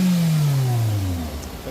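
A Perodua Myvi engine with a previously blown 15A EFI fuse runs steadily after half an hour of idling, its low hum dipping slightly in pitch, close and loud with no voices over it.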